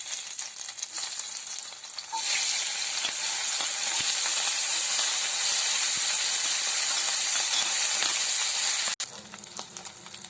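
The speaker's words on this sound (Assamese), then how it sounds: "মাছখিনি এতিয়া কেৰাহীত দি লম।" Misa fish rubbed with salt and turmeric hit hot oil in a wok, and a loud, steady sizzle jumps up about two seconds in. The bright hiss holds, then drops back briefly near the end.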